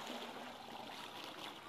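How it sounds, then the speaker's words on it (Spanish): Water is poured into a container for mixing a garden brew, making a steady, soft splashing trickle close by that carries on evenly. "Vamos a aplicar el agua hasta la mitad"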